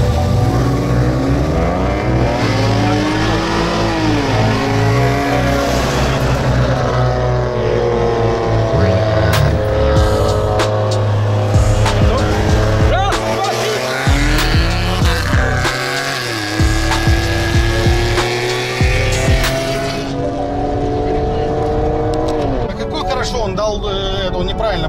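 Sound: Infiniti Q60 and BMW M340i drag racing

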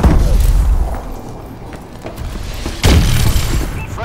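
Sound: missile strike explosions in Call of Duty video game

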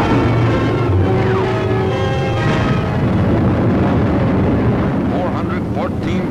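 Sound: bombs dropped from a bomber exploding

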